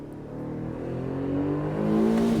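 A 2025 Aston Martin DB12 Volante convertible's exhaust rises in a steady, building rev, a deep engine drone climbing in pitch and loudness over a couple of seconds, heard close with no talk.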